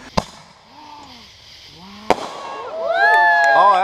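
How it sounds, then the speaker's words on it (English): Fireworks at a Fourth of July celebration: two sharp bangs about two seconds apart, followed by crackling and rising whistling tones, with people talking and cheering throughout. "Everybody see the fireworks?"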